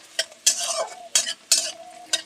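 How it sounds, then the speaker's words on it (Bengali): Onions frying in a pan for a soybean paratha filling are stirred in quick scraping strokes, about five sharp scrapes over a soft continuous sizzle, close and fairly loud with no talk. "পেঁয়াজটা একটু নেড়ে চেড়ে লাল করে ভেজে নেব।"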